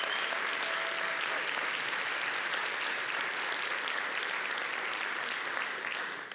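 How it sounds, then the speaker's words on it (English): A theatre awards audience claps steadily and loudly throughout, a dense unbroken wash of applause that starts to fade only at the very end. "So another round of applause for the panel of judges,"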